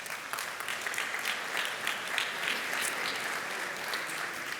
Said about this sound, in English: Please, let's give one more round of applause for that courageous creators.